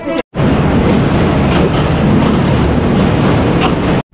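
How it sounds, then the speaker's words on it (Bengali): A train rumbles loudly across a bridge in a dense, continuous roar with faint rhythmic clatter, heard up close from start to finish. "এই ট্রেন দাঁড়ালো কেন এদিকে?"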